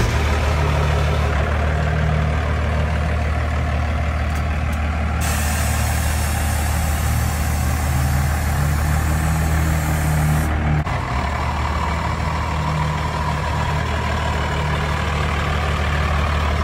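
A 2nd gen Cummins diesel truck engine idles close by with a loud, steady low rumble and drone that runs unbroken for the whole stretch, with a burst of hiss partway through and no talk.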